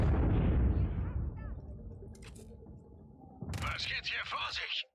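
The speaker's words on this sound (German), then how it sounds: "Das Ding explodiert." A loud explosion in the video game Just Cause 4 booms at the start and decays into rumbling debris, followed by scattered mechanical clanks and a hissing burst toward the end.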